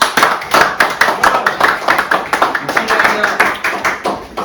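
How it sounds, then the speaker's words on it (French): Audience clapping at a French party game show, a dense burst of steady rhythmic claps from a crowd close up, with some talk and whoops mixed in. "Je vous invite à applaudir Maïna Bourlaoued."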